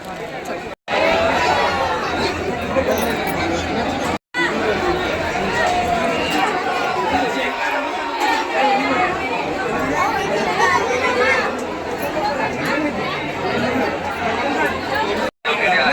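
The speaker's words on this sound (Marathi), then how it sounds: "बघू शकता किती गर्दी आहे, खूप गर्दी आहे." Dense chatter of a large crowd of pilgrims at the Jejuri temple, a continuous loud hubbub of overlapping voices close by, with a few brief dropouts.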